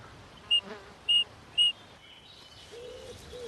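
A homemade whistle gives three short, shrill high-pitched blasts in quick succession, faint against a quiet woodland background.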